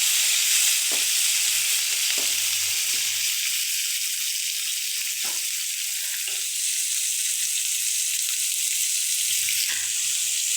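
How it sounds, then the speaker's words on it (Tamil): Onions sizzle steadily in a hot pan with oil for a taro curry, a continuous close frying hiss with a few brief stirring knocks and no talk. "உடன் சேர்த்து வெங்காயத்தை போடலாம்."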